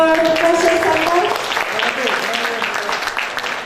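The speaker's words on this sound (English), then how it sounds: "big round of applause for Professor Samuel" Applause for a professor at an HR expo event in Jakarta, a steady wash of clapping across the hall with voices and a tonal sound over it in the first part.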